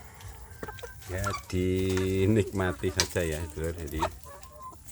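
Kampung hens clucking in a short burst of rising, drawn-out calls close by, with someone talking over them at the start and end.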